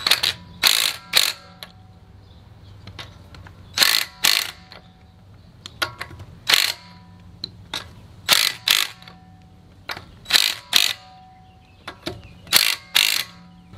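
A ratchet on an extension bar tightens the lug nuts of a Tesla Model 3 Performance wheel, producing sharp, close clicking in repeated short bursts separated by brief pauses.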